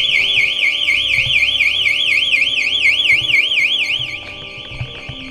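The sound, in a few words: alarm ringing in an abandoned building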